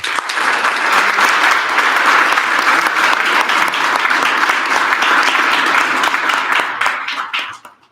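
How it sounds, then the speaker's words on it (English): Sustained applause from a township committee meeting audience, loud and steady for several seconds before tapering off at the end. "Another round of applause."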